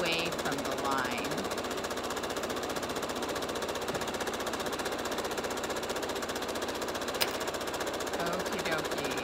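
A sewing machine stitching a quilt seam a quarter inch from a marked line, its rapid, steady mechanical chatter running continuously and moderately loud with no pauses.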